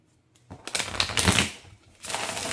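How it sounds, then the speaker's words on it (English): A close, loud riffle shuffle of playing cards: a rapid fluttering burst that builds and fades, followed by a second rustling riffle. "I'm going to ruffle, shuffle once more."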